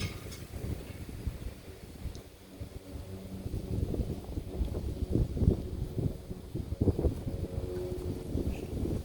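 Gusty wind buffets a microphone outdoors beside a griddle, a rough, continuous low rumble that swells and eases without pause.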